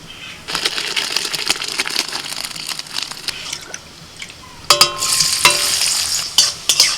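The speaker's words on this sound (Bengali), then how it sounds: "কড়াইতে সাদা তেল দিয়ে তেলটা একটু গরম হলে দিয়ে দিয়েছি কাজু কিশমিশ আর কাজু কিশমিশগুলো একটু হালকা করে ভেজে নেব" Cashews and raisins fry in white oil in a wok, sizzling steadily under the clatter of stirring. The crackle grows louder and busier in the last couple of seconds.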